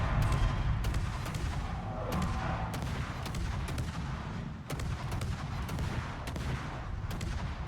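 Naval guns fire from a Marceau gunboat during a World of Warships battle, a dense, continuous run of booming salvos with sharp cracks every second or so over a steady low rumble, loud and close.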